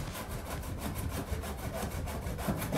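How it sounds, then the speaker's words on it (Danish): A handsaw cuts through a sofa with steady back-and-forth strokes in an even rhythm, a continuous rasping wood-sawing sound close by with no talk over it. "Jeg er ved at save en sofa i stykker."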